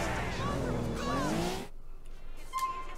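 Lamborghini in the video game GTA 4 revs with a rising and falling engine whine that cuts off abruptly halfway, leaving quieter background sound and a faint tone.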